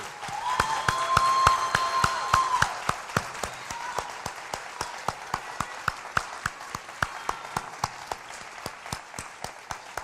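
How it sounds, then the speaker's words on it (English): Graduates applaud at a 2019 community college commencement ceremony, a steady bed of clapping with sharp individual claps standing out, fuller at first and thinning slightly over time, with a faint voice or tone near the start. "Graduates, please stand and join me in a round of applause for all the support given to you by your family members, friends, and faculty."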